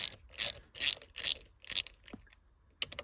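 A ratchet wrench with an extension clicks in quick bursts while loosening a bolt on the shifter assembly of a 1995 Mustang GT manual, going into an aluminum transmission housing; close, sharp ratcheting strokes separated by short pauses.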